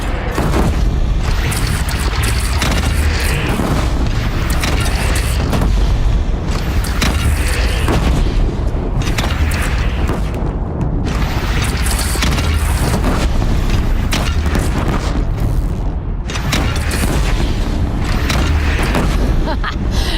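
Cannon fire and booming battle blasts from the video game Horizon Zero Dawn, loud and dense throughout, with repeated heavy explosions over a constant roar of combat.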